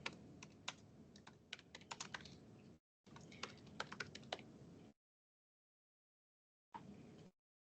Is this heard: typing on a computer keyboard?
yes